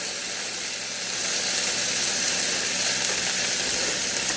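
Bacon sizzles on a non-stick griddle, a dense, steady crackling hiss that holds close and even for the whole stretch, with no talking over it.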